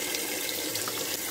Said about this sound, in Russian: И теперь я ее второй раз уже заливаю холодной водой.